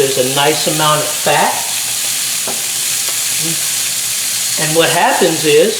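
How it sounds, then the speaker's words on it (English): Pork cut from assorted blade chops sizzles in a dry pan with no oil, a steady close crackling hiss that runs the whole time, while someone talks over it at the start and again near the end. "you take your meat and you just lay it in the pan"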